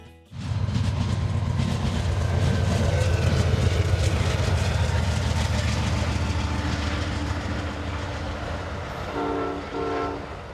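The southbound Amtrak Carolinian passenger train runs through near Collier Yard in Virginia, a loud, close, sustained rumble and rolling clatter of the passing cars, with a short horn-like tone near the end.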